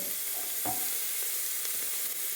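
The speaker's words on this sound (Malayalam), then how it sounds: "ഒരു ടേബിൾ സ്പൂൺ എണ്ണയിൽ ഇതൊക്കെ വഴറ്റിയിട്ട്" Chilli, ginger and garlic sauté in a tablespoon of oil, a steady soft sizzle with a brief stirring scrape, quiet and close with no talking.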